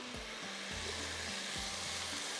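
Masala with fenugreek seeds sizzles and crackles steadily in hot oil, a close, dense frying hiss with faint stirring knocks underneath.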